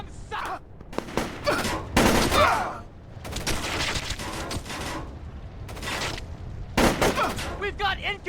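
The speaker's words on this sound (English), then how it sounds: "We've got incoming shots!" Gunfire in the stealth shooter Splinter Cell: Chaos Theory: sharp bursts and volleys of shots come in uneven clusters, loud and close, with short gaps and some game voices between them.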